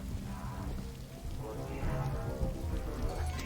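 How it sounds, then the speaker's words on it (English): Steady rain falls on surfaces during the dark opening of the Andor series, a constant dense hiss with low rumbling underneath and no voices. "Right off the bat, opening sequence. Dark, gritty, rain."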